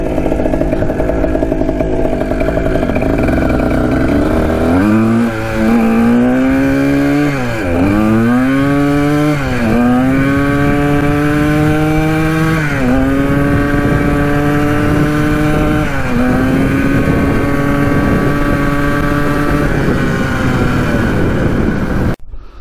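A neglected Kawasaki dirt bike engine runs rough and boggy at close range, revving up repeatedly with wavering, stumbling pitch and then settling back to a buzzy idle.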